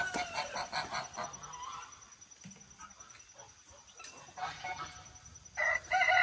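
A rooster crows in bursts amid other poultry calls, with a loud crow near the end; background clucking and farmyard noise on a muddy farm.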